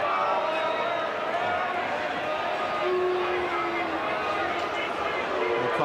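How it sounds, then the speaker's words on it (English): A stadium crowd at a 1988 rugby league match between the Brisbane Broncos and Manly Warringah Sea Eagles, a steady roar of massed voices jeering player Michael Stone, sustained and fairly loud with a commentator's voice over it. "The crowd letting Michael Stone know what they think."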